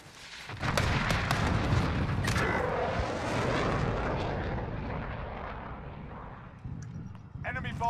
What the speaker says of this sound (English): I'm just gonna drop a VTOL on B.